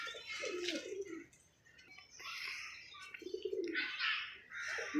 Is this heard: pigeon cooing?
yes